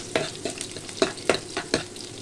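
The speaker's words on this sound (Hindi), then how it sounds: "इनको अच्छे से फ्राई कर लेते हैं गोल्डन होने तक।" Red and green chilies fry with garlic in a pan, sizzling close by while about five sharp stirring scrapes land in quick, uneven succession, with no voices.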